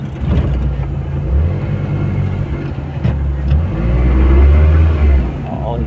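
A vehicle engine labors along a rough farm road, a loud, deep rumble that swells and strains toward the end, with people talking over it.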